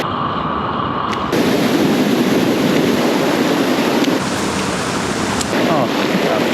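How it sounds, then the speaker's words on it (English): Water rushes down a rainforest stream after a very wet season, a loud, constant broadband roar close to the microphone with slight wind buffeting. "there's still a lot of water pumping down here"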